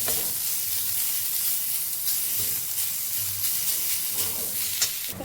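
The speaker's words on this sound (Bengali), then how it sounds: "কড়াইয়ে দিয়ে দিয়েছি সামান্য সাদা তেল, আর এখন এর মধ্যে আমি দিয়ে দিচ্ছি রসুন কুচি, আদা কুচি" Chopped garlic and ginger frying in a little white oil in a kadai, a continuous close, even sizzle and hiss with faint stirring underneath, no voices.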